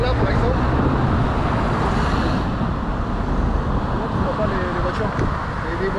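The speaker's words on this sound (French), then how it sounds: "les voitures qui passent à cette allure là" Cars pass along a road in a steady wash of traffic noise, with one vehicle swelling and fading midway. The sound is moderately close and continuous, and no speech can be made out.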